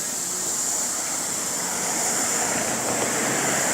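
Lawn sprinklers spray water outdoors in a steady, dense hiss of falling droplets that holds constant and fairly loud throughout, with no voices.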